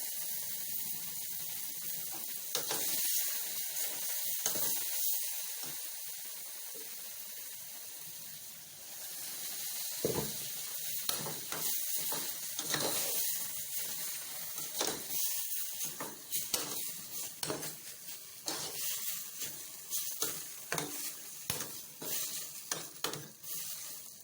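An eggplant stew sizzles and crackles in a pot on the stove over high heat, with a continuous frying hiss broken by frequent scraping clicks of stirring, close and without speech.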